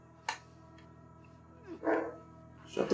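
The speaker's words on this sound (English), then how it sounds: "Shut the fuck up, dog." A dog in The Last of Us Part II barks a few times, sharp yaps at moderate distance over a low steady game ambience.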